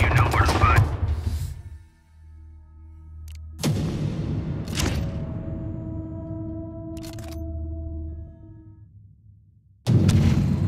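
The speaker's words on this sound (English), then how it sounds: "Danger. Turret defense system activated." An automated turret defense system fires in the underground reactor area of the Sniper: Ghost Warrior 3 video game. Loud bursts of rapid gunfire open the clip, return in the middle and again at the end, with droning hums in between.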